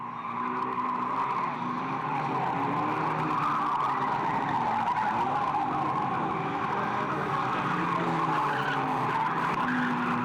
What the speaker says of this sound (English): A spin on Keith Reynolds there in the previous higher car